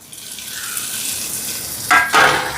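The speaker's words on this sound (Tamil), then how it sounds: "இப்போ இங்கே வெங்காயம் எல்லாம் வதங்கிட்டு பாருங்க" Steady sizzling of onions sautéing in a hot pan, with a couple of louder bursts of crackle and stirring near the end.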